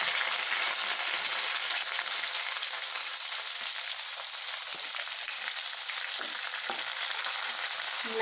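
Curry leaves and onions fry in hot oil in a pan for a Hotel-style veg kuruma, giving a steady, dense sizzle that stays close and even, with no voices.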